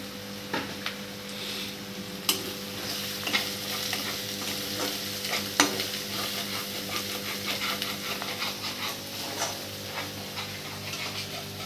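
Fish curry masala fries and is stirred in a pan for a traditional-style fish pulusu, a steady near sizzle broken by irregular scraping and tapping of the spoon against the vessel.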